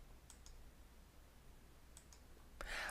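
A computer mouse clicking in a quiet room, a few faint, sharp single clicks spread apart, then a brief louder rustle at the end.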